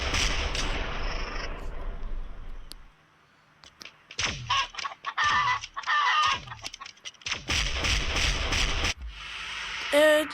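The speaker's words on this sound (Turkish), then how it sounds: "Tavuk." A chicken clucks in the Rope Hero Vice Town video game, with several loud, close bursts of clucking separated by short gaps and a brief quiet stretch.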